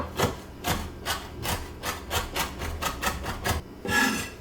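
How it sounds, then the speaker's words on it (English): Fresh herbs being finely chopped with a knife on a board: a close, steady run of rhythmic chopping strokes that speeds up slightly before a brief pause and a final scrape. "Then I'm just going to finely chop this as well."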